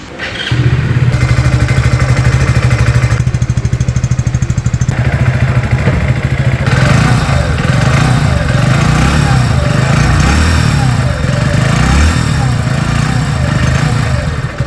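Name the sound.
Hero HF Deluxe Pro motorcycle exhaust sound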